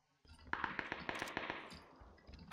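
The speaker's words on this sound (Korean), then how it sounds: "아 무섭게 이렇게 총소리가 나." Rapid gunfire in the battle royale game PUBG, a burst of roughly eight sharp shots in quick succession, fairly close and loud, followed by fainter trailing reports.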